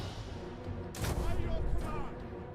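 Archers open fire in Total War: Attila, a sudden dense volley rushing out around the one-second mark and fading into crackling impacts over a continuous low battlefield rumble.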